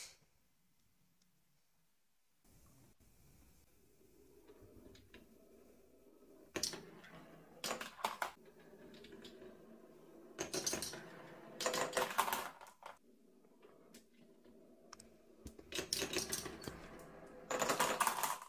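Marbles roll and clack down a marble run track in a race, quiet ticking and rattling that builds into several louder bursts of clicking and rumbling, with near-silent stretches between.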